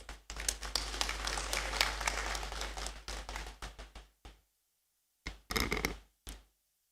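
Applause at a university congregation ceremony in a great hall, a dense patter of many hands, loud and sustained for about four seconds, then dying away before a few short bursts of clapping.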